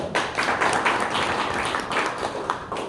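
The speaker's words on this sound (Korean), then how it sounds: "박수 부탁드립니다." Audience at a home-brew party event applauds a presenter, a small crowd clapping steadily with crisp individual claps audible, fairly close and consistent for the whole stretch.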